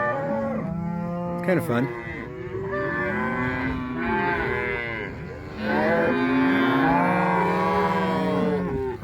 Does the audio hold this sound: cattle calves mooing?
yes